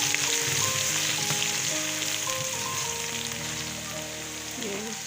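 Steady, dense sizzling of garlic ginger paste frying with fried onions in a pan for a vegetable pulao, a continuous crackling hiss with small pops and occasional faint clinks, no talk.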